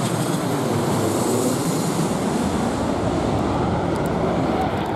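An airplane passes overhead near a golf course in Buenos Aires, a steady broad engine roar with no distinct rhythm that holds at a fairly loud level throughout, with no talking.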